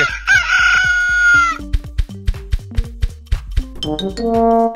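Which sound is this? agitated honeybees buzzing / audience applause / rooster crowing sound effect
rooster crowing sound effect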